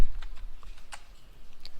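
A computer keyboard being typed on in a quick burst of light, close key clicks as a grep command is entered at a terminal.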